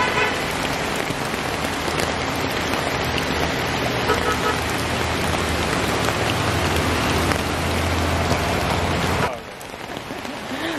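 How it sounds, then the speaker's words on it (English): Steady, heavy rain patters continuously over tree canopy on a forest hike, a dense hiss that drops off abruptly near the end, leaving quieter dripping. "And it's already raining"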